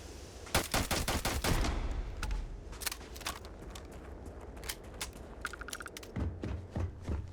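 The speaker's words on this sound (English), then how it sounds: "I just love shooting animals." Gunfire in the video game Starfield, with a rapid burst of sharp shots followed by scattered single shots and thuds. The shots are loud and punchy against a rumbling game background.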